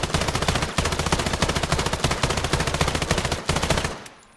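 Rapid automatic gunfire in the shooter game Islands of Nyne rattles out in loud, tightly spaced bursts with brief gaps, then cuts off abruptly near the end.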